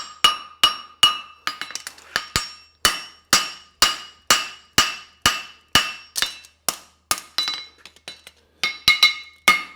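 Steady, ringing hammer blows on hot steel at an anvil while forging a French hind horseshoe, about two strikes per second with bright metallic clinks and quick decays, close and loud with no talking.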